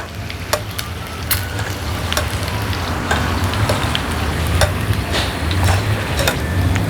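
Chicken feet frying in hot oil, a steady crackling sizzle with sharp scattered pops throughout, close and loud.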